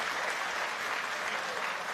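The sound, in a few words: applause for the fighters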